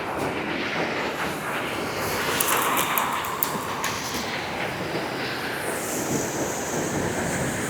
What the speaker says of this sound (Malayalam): വെള്ളത്തിൻ്റെ ഒഴുക്ക് സൂപ്പർ.